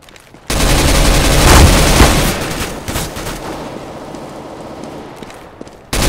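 Video game gunfire from Awesomenauts: a loud, sustained barrage of rapid shots and explosions starting abruptly, peaking early and tapering into a lower crackling rattle, with another burst at the very end.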